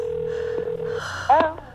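Ringback tone of an outgoing phone call, a steady electronic tone heard through the handset for about a second, then a brief burst of other sound, with a voice faintly underneath.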